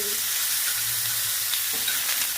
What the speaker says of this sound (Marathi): त्याला चांगलं परतू द्यायचं टमाट्याला पण